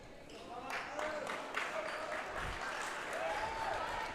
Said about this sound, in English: getting a round of applause from the Los Fresnos faithful